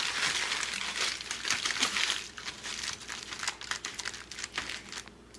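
Aluminum foil crinkles and crumples steadily while being rolled, pressed down and folded tight around a rack of pork ribs, a close, continuous papery rustle that softens toward the end.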